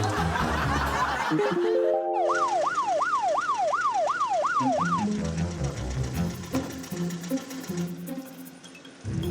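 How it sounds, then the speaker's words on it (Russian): A loud car alarm blares with a rising tone followed by a rapid warbling wail that repeats, over background noise and commotion. "Пусть эта зараза пищит сигнализацией в каком-то другом дворе."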